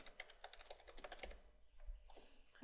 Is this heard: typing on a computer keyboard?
yes